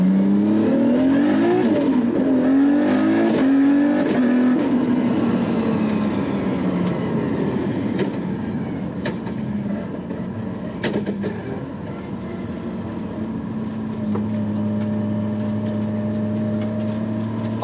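A Nissan R32 Skyline GT-R with an RB32 engine and a big Garrett G45-1500 turbo pulls hard in first gear on a public road, engine note climbing then easing off into a steady drone, close and loud.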